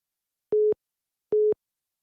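A phone busy signal after a dropped call: two identical short steady tones, evenly spaced with silence between, clean and close.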